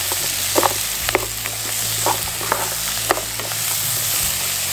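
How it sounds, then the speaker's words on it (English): Seasoned ground taco meat fries in a hot pan, giving a continuous close sizzle broken by scraping clicks as it is stirred and browned. "So I'm gonna stir this up a little bit until it starts to brown up."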